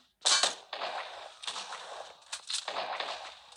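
Gunfire in the mobile battle royale game PUBG Mobile, with five or six sharp bursts, each a crack followed by a short ringing tail, loud and close with no talking.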